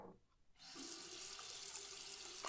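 A kitchen tap turns on and runs steadily, pouring water into a drinking glass as a loud, continuous close-up rush with no talk over it.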